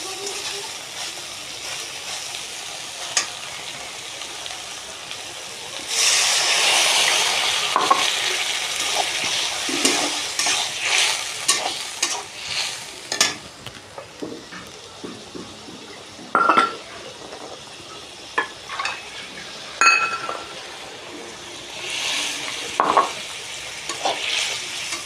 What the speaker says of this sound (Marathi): जवळजवळ मी 1 ग्लास पाणी ओतलेलं आहे याच्यामध्ये।